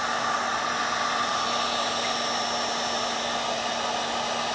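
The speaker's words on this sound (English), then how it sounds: "You're not going to hurt anything with the heat gun on this one." A heat gun blows hot air onto shrink tubing and tube connectors during final assembly of a desktop mini PC, a steady, even whoosh that holds unbroken at close range with no talking.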